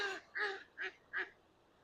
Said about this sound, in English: was that duck in the water laughing at the duck that flew away?